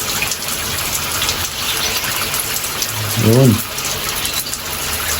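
Water poured over pet African lovebirds to bathe them, a steady close spattering wash that runs throughout, with a brief spoken word in the middle.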